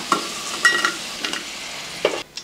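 Garlic cloves frying in oil for Tamil idli podi, with soft sizzling under a few sharp stirring and scraping clicks of a spatula in the pan, close and moderately loud, no voices.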